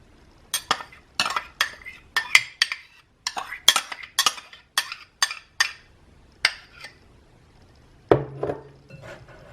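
Palm oil is stirred into flour in a bowl for Nigerian Yoruba aadun, with a spoon clinking and scraping against the bowl in quick, repeated bursts.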